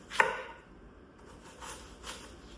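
A knife slices down through an onion on a cutting board, giving one crisp cut followed by a couple of softer knife taps, close and fairly quiet.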